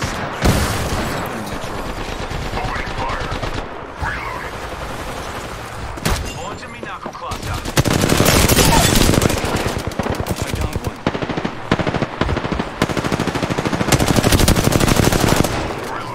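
Sustained automatic gunfire in the Apex Legends video game, with long, dense bursts of rapid shots and louder volleys in the second half, and a voice talking underneath.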